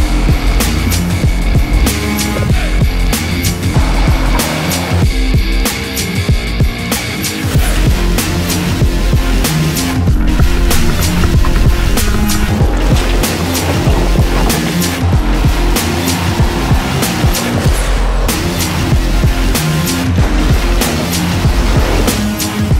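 Jeep JL Wrangler Sahara with a 2-inch Dynatrac EnduroSport lift crawling over rocks off road, a steady loud drone of engine and tires with constant scraping, knocks and crunches from the terrain, no talk.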